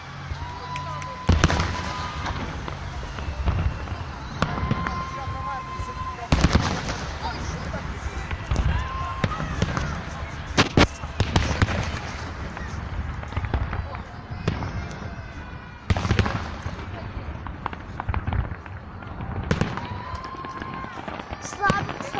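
Fireworks shot upward in a repeating series of launches, each a sharp pop or boom followed by crackling bursts, with people talking and exclaiming throughout over steady outdoor background noise.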